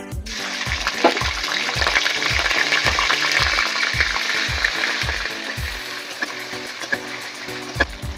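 Ginger and cumin paste fries in hot oil as a steady high hiss and sizzle, with a regular mechanical thumping pulse running underneath throughout.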